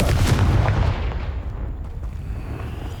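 A Confringo fire spell blasts in Hogwarts Legacy, a loud burst of crackling explosive noise that quickly decays into a fading rumble.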